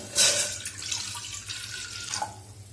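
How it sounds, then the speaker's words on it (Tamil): Water from a tap splashes into a vessel in a home kitchen, a tumbler's worth for boiling, heard as a brief close burst of pouring and trickling with a few drips, no talk. "ஒரு டம்ளர் தண்ணி ஊற்றி நல்லா கொதிக்க வைக்கணும்."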